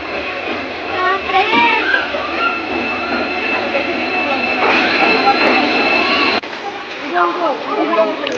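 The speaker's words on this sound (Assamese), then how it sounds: "আমাৰ ট্ৰেইন আহি পালে" A train rumbles and screeches as it pulls into a crowded station, with steady mechanical noise and squealing tones while people talk over it nearby.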